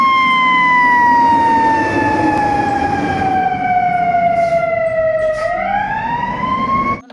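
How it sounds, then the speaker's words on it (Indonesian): A toy fire truck's electronic siren wails steadily and loudly up close, its tone gliding slowly downward for several seconds, then sweeping back up near the end, with no voices. "di sini ada truk pemadam kebakaran atau damkar ya teman-teman."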